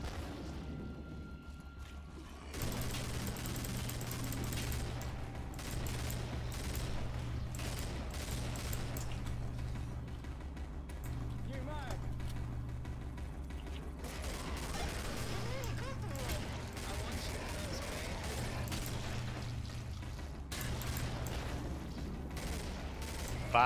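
Killing Floor gunfire runs throughout: a muffled, continuous clatter of shots and bangs under a droning game soundtrack, fairly faint and distant in the mix.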